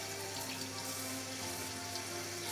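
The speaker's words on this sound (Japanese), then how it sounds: "丁寧にスポンジなどで汚れをきれいに洗い流していきます。" Burdock root scrubbed with a sponge under a running kitchen tap, giving a steady, close hiss of flowing water with no voices.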